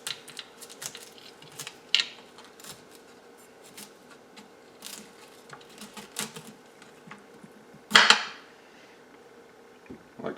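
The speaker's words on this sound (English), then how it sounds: "So I'll be chopping off the florets, equalizing those out a bit, and I'll add it to my onion pile." A knife cuts florets off a stem on a cutting board for a hashbrown casserole, giving scattered light taps and clicks with one louder chop near the end, close by and with no talking.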